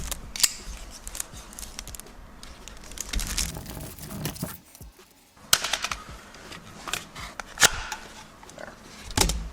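Pistol grip pliers, an Icon tool made in Taiwan, being ripped out of packaging: a quick series of sharp tearing, crinkling and crunching bursts, close and fairly loud, with a short quiet gap midway.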